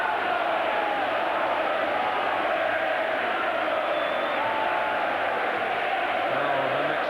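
Football stadium crowd at Arsenal versus Everton in 1998, a dense roar of applause and cheering that stays loud and steady throughout, with no clear voices standing out.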